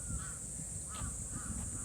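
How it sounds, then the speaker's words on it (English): Crows cawing in a garden in Osaka, Japan, three separate hoarse calls spaced about half a second to a second apart, moderately distant, over a steady hum of insects and low background rumble. "Crows."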